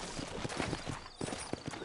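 Horse hooves clip-clopping in the Red Dead Redemption video game, a horse walking through a town in quick irregular steps, close and steady over a faint background bed.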